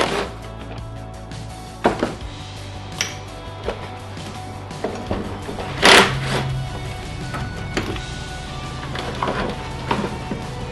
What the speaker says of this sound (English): There's a couple screws to pull this plastic bracket off.